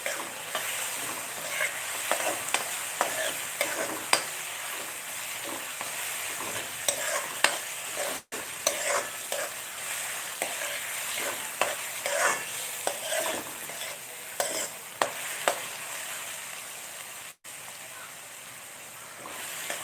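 Curry leaves crackle and sizzle in hot oil for a puffed rice snack, a continuous close frying hiss scattered with sharp pops and stirring scrapes, holding steady throughout with two brief dropouts.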